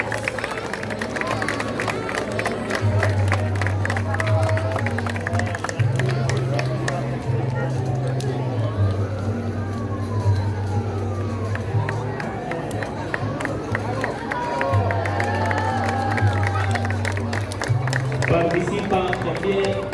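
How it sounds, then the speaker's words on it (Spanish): At a Día de Muertos parade in Zapotlanejo, Jalisco, a crowd claps and cheers steadily over a continuous babble of voices, with a loudspeaker voice talking throughout. "Fuerte el aplauso para todos ellos."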